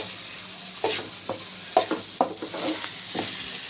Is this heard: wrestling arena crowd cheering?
no